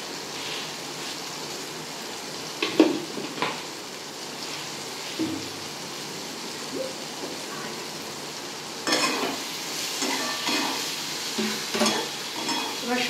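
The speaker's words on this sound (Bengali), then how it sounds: "দেখুন মশলাটা ভালো করে ভাজা হয়ে গেছে, তেলটা উপরে উঠে এসছে" Spices fry in oil in a pan with a continuous crackling sizzle, broken by occasional stirring scrapes that grow busier toward the end.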